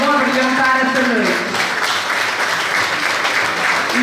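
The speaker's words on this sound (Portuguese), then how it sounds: "Uma grande salva de palmas para todos eles" Crowd applause at a Festa do Império evening with sung improvised verse, a loud, sustained wash of clapping close by, with voices talking and calling out over it at the start.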